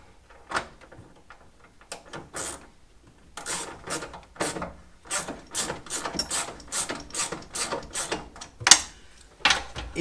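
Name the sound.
refitting seat mounting screws on a Lotus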